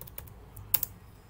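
A few soft, scattered keystrokes tap on a computer keyboard, quiet and close with a small cluster of clicks in the middle.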